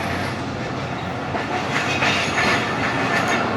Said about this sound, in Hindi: Chunda railway station train approach बना रही है 9:30 पे।